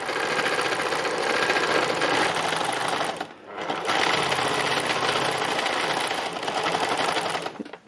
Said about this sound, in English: So I'm just sewing where I think I need to.